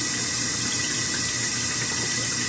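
Water rushes steadily into a KitchenAid Superba dishwasher as it fills, a constant hissing flow with a faint low hum beneath, close and unbroken.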